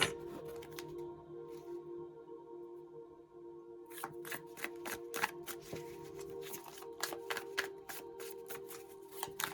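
Tarot cards being shuffled by hand, a soft riffling run at first, then a quick sequence of crisp, close card snaps and flicks over a steady low background hum.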